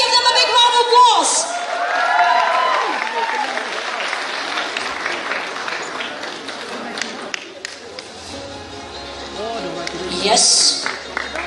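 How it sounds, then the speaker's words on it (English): An audience at a youth festival award ceremony applauds steadily throughout, a dense wash of clapping with cheers and a few shouts rising over it near the end. "Let's give them a big round of applause."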